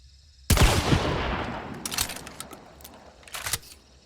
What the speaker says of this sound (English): The default cycle animation triggers when you fire the Alamo, then immediately release the aim button